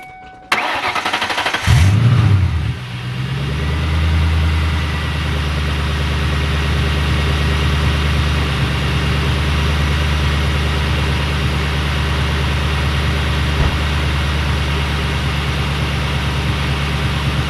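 A manual car's engine cranks briefly, catches and settles into a steady, loud idle that holds for the rest of the time, close by with a faint hum from the freshly installed cold air intake.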